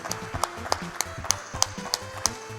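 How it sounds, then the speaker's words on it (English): At a speedrun marathon event, a small burst of scattered clapping taps out in uneven individual claps, fairly faint and sparse, over a low background hum with a musical tone. "if you guys could give him an applause"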